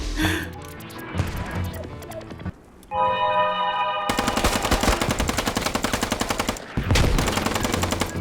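Gunfire in the military shooter Squad, with a few scattered shots and then long, loud, rapid automatic bursts rattling close by for several seconds.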